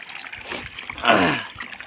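Water pours from a pump-fed pipe into a metal drinking-water pot on a farm, a close, rushing splash that swells and then eases over about two seconds, with no talk.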